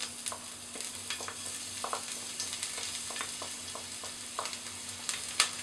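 Garlic sizzles and fries in hot cooking oil in a pan as a sautéing base for menudo, a soft steady crackle with small spatters and occasional stirring clicks, no voices.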